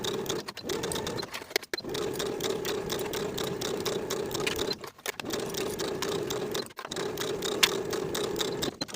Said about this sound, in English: Sew from one outer edge across the shoulder seam to the opposite outer edge with a 3/8 inch seam allowance